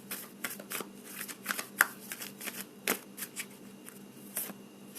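Tarot cards being shuffled by hand in a series of quick, crisp riffling and slapping bursts, close and fairly quiet, with no talking.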